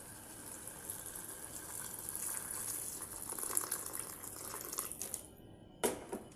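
Water pours steadily into a pan of ridge gourd and tomato masala curry, a soft continuous gushing stream that stops abruptly near the end, followed by a short clatter.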